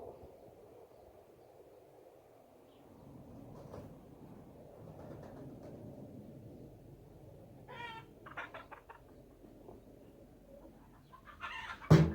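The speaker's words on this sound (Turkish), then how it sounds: "Şimdi güvercinleri getirdim arkadaşlar." Pigeons in a coop give soft low cooing and fluttery calls over a steady background hum, growing busier toward the end with a few sharper bird sounds and rustling close by.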